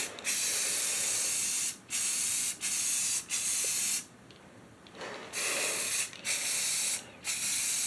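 A can of purple spray paint hisses in bursts, about six or seven loud, close sprays separated by short pauses, used with stencils on a painting.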